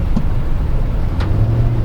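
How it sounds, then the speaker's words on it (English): A 2023 Chevrolet Tahoe Z71 cruises at around 30 km/h, its engine a low, steady hum under continuous road and cabin noise, quiet and even with a faint swell near the end. "There you can hear the engine a bit"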